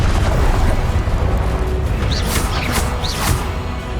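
Blasting-spell explosions in the Hogwarts Legacy game: dense, loud roaring booms that fill the whole stretch, with several sharp whooshing bursts near the end over a steady rumbling low end.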